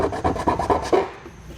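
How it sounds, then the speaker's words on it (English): A metal file rasps across the cut edges of a trimmed bumper panel in quick, rhythmic back-and-forth strokes, about six close scrapes that then fade out. "I'll take a file to it just to smooth out any edges"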